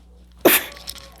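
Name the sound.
sneeze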